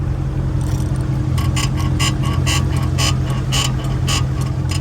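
Suspension on a Mercedes SL500 creaks and clicks as the car body is pushed, a series of short, evenly spaced squeaky ticks over a steady background hum.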